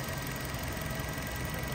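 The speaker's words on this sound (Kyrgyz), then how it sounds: "Мотор жагы да жым иштеп турат" A 2015 Nissan with a 1.6 engine and automatic gearbox idles smoothly, a faint, steady low hum with slight ticking vibration, heard alone without talk.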